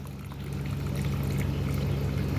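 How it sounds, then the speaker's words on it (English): Water pours steadily down a custom-built waterfall and river inside a bioactive reptile tank, a strong, continuous close splashing flow that grows slightly louder, with no talking. "There's our custom build waterfall, river and waterfall."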